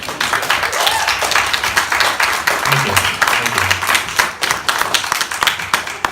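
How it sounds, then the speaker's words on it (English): A town hall meeting audience claps steadily in dense, continuous applause for several seconds, with a few voices murmuring underneath. "You deserve a round of applause"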